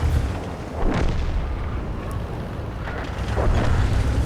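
An artillery shell explodes in the World of Tanks video game: a loud, dense, rumbling boom that fills the whole moment with a heavy low roar and no pause.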